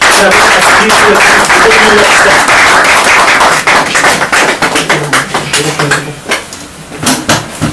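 An audience at a merit diploma award ceremony applauds and cheers loudly as a recipient comes forward to collect his prize. Dense clapping fills the opening seconds, then thins into scattered claps and thuds amid voices and crowd noise.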